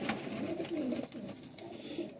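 Soft, low coos from Teddy flying pigeons repeat in a gentle rolling rhythm, close by and fairly quiet, with no talking over them.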